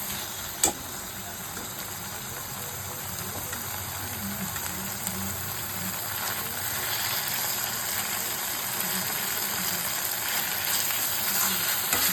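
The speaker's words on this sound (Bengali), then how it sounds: "এবার আঁচটা একটু বাড়িয়ে মশলাটা আর একটু কষে নেব।" Masala paste with melted tomatoes frying in a pan over raised heat, a steady low sizzle and hiss with faint stirring, close and unaccompanied by speech.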